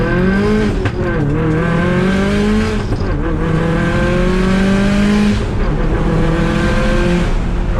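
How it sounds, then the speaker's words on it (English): A 2014 Subaru WRX hatchback with a big-turbo E85 build revs loudly and continuously, its engine note climbing and dropping in pitch several times across the stretch with no talking. "This is my 2014 Subaru WRX hatchback"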